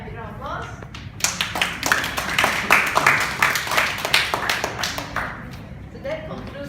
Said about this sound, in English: Let's give Maya a big round of applause.